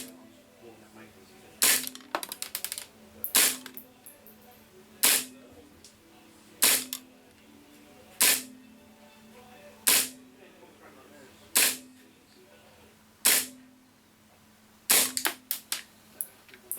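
A gas blowback airsoft pistol running on green gas fires BBs through a chronograph, roughly a dozen sharp loud cracks spaced about one and a half seconds apart, each with a quick metallic slide clack, over a quiet background.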